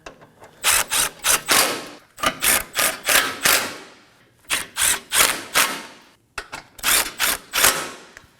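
Hand ratchet snugging the four bolts on a 2016-2020 Kia Sorento front bumper beam, loud close rapid clicking in several quick bursts separated by brief pauses.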